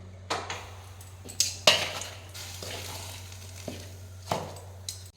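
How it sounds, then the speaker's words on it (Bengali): Rice-flour dough mixed with hot water and salt is kneaded by hand in a bowl, with soft intermittent squishes, pats and scrapes over a low steady hum and no talking. "এবার হাত দিয়ে ভালো করে মাখাচ্ছি।"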